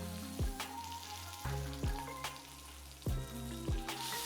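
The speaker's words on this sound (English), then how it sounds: "The fat side's now on there and it's caramelizing." The fat side of a sous vide ribeye steak sears in a hot pan, sizzling softly and steadily while sharp crackling bursts flare up every second or so, heard close with no talking.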